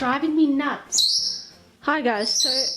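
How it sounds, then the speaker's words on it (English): Someone talks while a nearby bird lets out sharp, high whistling chirps between her phrases. "excuse the birds, there's nothing I can do about them"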